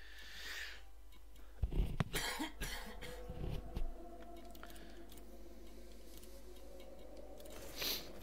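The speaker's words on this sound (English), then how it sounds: "sorry for coughing at you all night here" A few sharp coughs from a person during a live stream, bursting out mid-clip against a quiet room background with faint ticking, then fading back to low hiss.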